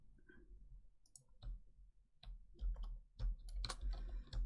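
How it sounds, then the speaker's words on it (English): Irregular bursts of keyboard clicking, close and fairly quiet, with short pauses between runs of keystrokes. "Sorry if you can hear me typing."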